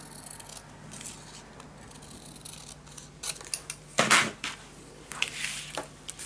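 Scissors cutting paper for a Halloween pop-up scrapbook album, with soft close snips and rustling paper handling that swell into a few louder cuts midway.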